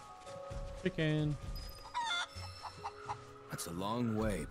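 Chickens in Final Fantasy VII Rebirth cluck and squawk in a few bursts, one drawn-out crow-like call near the end, over game ambience and music with a voice speaking at moments.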